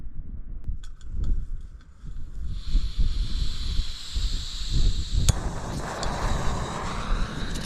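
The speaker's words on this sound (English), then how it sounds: "there's no protection from the wind" Strong wind sweeping across an exposed grassy island campsite, a steady broadband rush with low rumbling buffets against the microphone that grows harsher and louder partway through.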